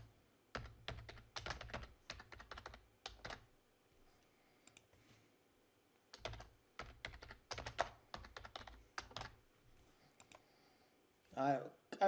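Bursts of quiet clicky typing on a computer keyboard as passwords are entered, clustered in several runs separated by pauses, recorded close and faint.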